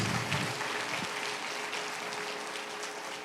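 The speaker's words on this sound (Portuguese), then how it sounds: "Quero que você dê uma salva de palmas para Jesus, então." Church congregation clapping in praise at an evening service, a broad steady wash of applause that starts fuller and settles into a sustained, slightly softer patter, with no speech over it.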